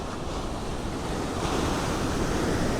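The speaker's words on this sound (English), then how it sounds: "Here's the wave come in, and as soon as it goes out, it looks dry." Ocean waves wash steadily onto a beach in a continuous loud rushing surf with wind, no voices.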